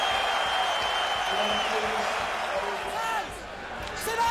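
A rugby crowd cheers for England after Wilkinson's kick puts them 6 points up and ahead of Australia at the 2007 Rugby World Cup, a broad, steady stadium roar with speech-like chatter mixed in, easing off near the end.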